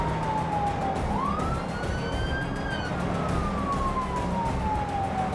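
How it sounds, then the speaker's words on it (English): Police siren in the BeamNG Drive video game, a single wail sweeping slowly up and down in pitch over constant loud traffic-like noise. "Sirens howled."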